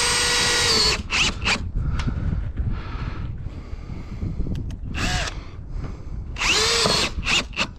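A power drill with a nut driver bursts in short, loud whines as it drives screws through exposed-fastener metal roofing panels into wood decking, several separate runs spaced apart with wind noise between them.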